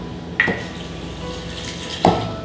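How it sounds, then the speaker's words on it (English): Water is poured in two short splashes into a fermentation airlock bubbler for beet kvass, each a brief close trickle about a second and a half apart, over a quiet room background. "And we're going to put water in this bubbler."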